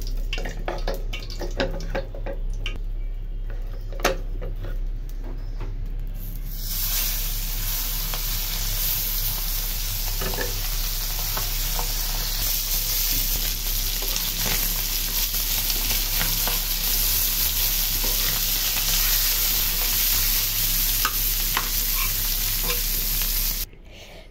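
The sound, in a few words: jatka fish frying in a pan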